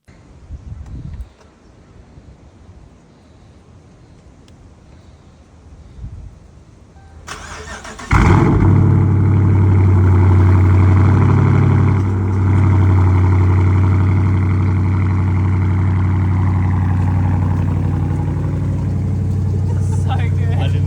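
A car engine cranks and catches after a quiet stretch with faint background sounds, then runs loud and steady at close range with a deep, raw droning hum for the rest of the clip.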